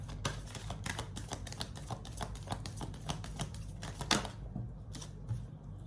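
Rapid papery flicks and riffles of tarot cards being shuffled by hand, a quick irregular run of crisp snaps close to the microphone that trails off near the end, no talking.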